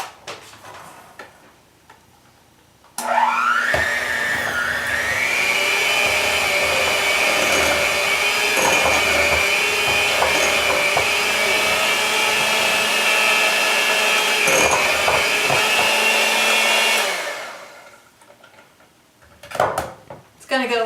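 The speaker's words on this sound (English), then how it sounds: "you then want to mix them together using the mixer" An electric hand mixer whirs through ingredients for 14 seconds at a loud, steady, close pitch with slight wobbles as it works the bowl, then winds down, with quieter room sounds before and after.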